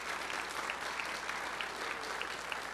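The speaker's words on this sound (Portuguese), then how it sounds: "Aplauda o Senhor se você crê." Church audience applauding steadily throughout at a Catholic worship talk, a dense, continuous wash of clapping from a sizable crowd with no voices on top.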